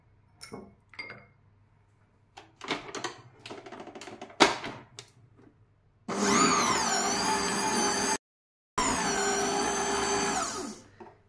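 Electric mixer whipping cold whole liquid cream with icing sugar at low speed: clinks and taps from the bowl come first, then a loud, steady motor whir that stops briefly and starts again.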